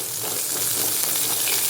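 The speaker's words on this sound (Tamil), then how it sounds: "இது வந்து வெங்காயம் போட்டுக்கிறேன்." Chopped onion frying in hot oil with mustard seeds and curry leaves, a loud continuous sizzle with small pops and crackles, heard close with no voices.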